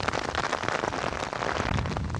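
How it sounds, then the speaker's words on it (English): Heavy monsoon rain pours onto a catchment pond and an umbrella, a dense, loud, continuous hiss of drops with no voices. "Keep on raining."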